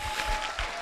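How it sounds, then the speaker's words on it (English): Audience clapping at a customer service week celebration in Rwanda, a brief, fairly soft burst of many hands with no talking. "So I would like all of you to clap for her."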